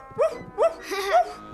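A cartoon dog giving three quick yappy barks in a row, the last one longer and drawn out, close and clear with nothing else behind them.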